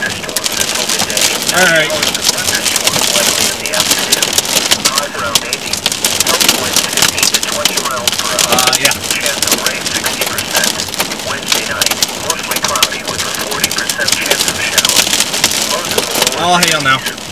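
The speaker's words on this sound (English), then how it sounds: "the hail is just non-stop now" Hail pounding down in a severe thunderstorm from a warned supercell in Athens, Michigan, a dense, continuous rattling and crackling roar on surfaces that stays loud throughout, with someone speaking briefly over it.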